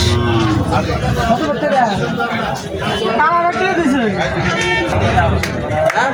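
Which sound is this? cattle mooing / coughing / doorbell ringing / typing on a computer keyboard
cattle mooing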